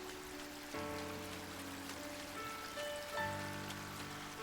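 Steady rainfall in the farming game Story of Seasons: Grand Bazaar, a constant patter on surfaces at the end of summer, running alone under tonal game music with no talking.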